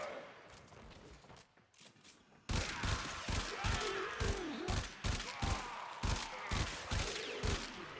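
Burston rifle from Warframe firing in rapid, evenly spaced bursts against enemies, loud and close, starting after a quieter lead-in of ambient game noise.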